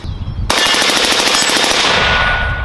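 A 14.5 inch AR-15 build with an Alamo-15 trigger fires a very rapid semi-automatic string outdoors, loud close shots running together almost like full-auto fire for about two seconds before stopping.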